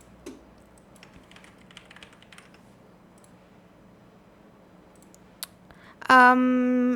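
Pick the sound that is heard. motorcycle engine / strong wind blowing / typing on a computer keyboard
typing on a computer keyboard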